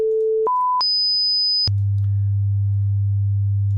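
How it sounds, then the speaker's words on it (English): A sine wave test tone from a signal generator steps up through several pitches in quick succession, then settles on a steady low hum that holds loud and clean before cutting off. "I have a signal generator"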